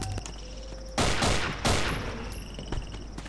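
Gunfire in the horror video game Afraid of Monsters: two loud, close shot bursts about half a second apart, each with a short broad decay, over a quiet game background.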